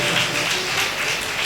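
A church congregation claps hands together in a brief, dense burst of applause that fills the room.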